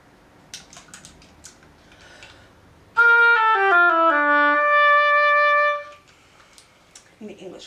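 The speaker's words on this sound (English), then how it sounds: "So the oboe, again for reference, sounds like this." An oboe plays a short descending run of notes, then holds a long sustained tone for a few seconds, heard close and clear between brief moments of speech before and after.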